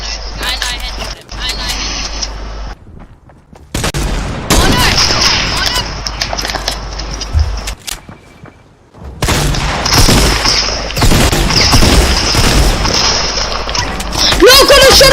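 Tactical shotgun blasts and other gunfire in a playground-style video game, loud booming shots in bursts broken by short silent gaps, with an excited voice talking over the fighting.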